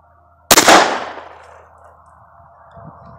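A single sharp shot rings out from a small Beretta 21A Bobcat pistol fired outdoors, loud and near, with a long fading echo afterward.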